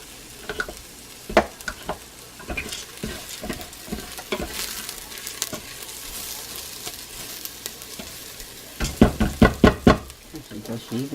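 Food toasting in a pan while cooking sheet pan chicken fajitas, a soft background sizzle broken by sharp knocks and scrapes of a utensil, with a cluster of louder taps near the end and people talking intermittently.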